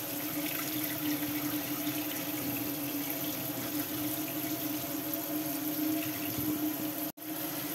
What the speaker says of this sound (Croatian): Sada je potrebno da pustite vruću vodu, ali ja obavezno preko stavljam i vrelu vodu koja je proključala